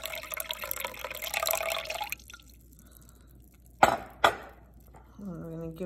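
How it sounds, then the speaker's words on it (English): Jaggery water poured into a sugared water mix for water kefir, coming as two short splashy gushes after a stretch of talking, with a voice returning at the end. "let's add that jaggery water to the sugared water mix"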